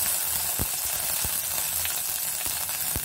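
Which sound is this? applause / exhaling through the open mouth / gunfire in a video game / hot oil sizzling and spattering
hot oil sizzling and spattering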